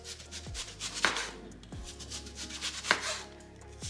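A knife chops onion on a cutting board while making aguachiles verdes, with a few distinct, sharp cuts spaced apart, close and fairly quiet.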